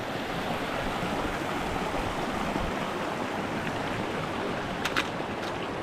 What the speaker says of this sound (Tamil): கிளேஷியர் தான் வந்து உருகி தனியாக ஓடிக்கிட்டு இருக்கு